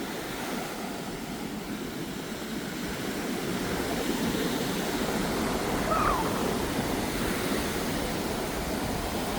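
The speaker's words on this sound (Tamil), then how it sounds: "அப்படி கடல் அடித்து கொண்டு இருக்குது பார்த்தீங்களா" Rough sea waves pound the shore at Mullaitivu, making a continuous heavy roar of surf with a steady churning wash and no pauses between breakers.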